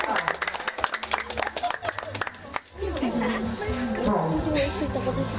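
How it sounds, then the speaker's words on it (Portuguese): Audience applause and scattered clapping for a couple at a lively love-message event in Vila Ponte Rasa, São Paulo, dense and sustained at first, then fading into crowd noise and music-like tones. "Aplausos para a nossa namorada, né, pessoal?"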